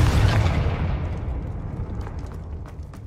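A loud explosive burst from a Confringo fire spell in the Hogwarts Legacy video game, booming at once and then rumbling and fading away over about three seconds, with no voices over it.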